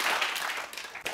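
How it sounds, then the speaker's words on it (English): A studio audience claps briefly, a dense burst of applause that cuts off abruptly after about a second. "Now you can clap."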